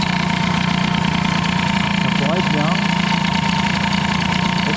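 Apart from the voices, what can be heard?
Peugeot 103 moped engine idling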